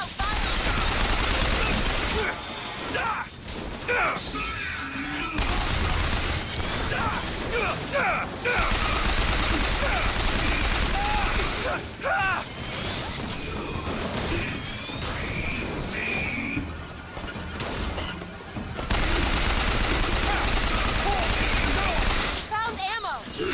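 Gunfire and explosive crashes from a firefight in the video game BioShock Infinite, loud bursts in clusters across the clip with brief lulls, mixed with game voices and effects.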